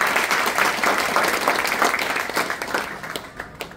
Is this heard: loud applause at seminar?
yes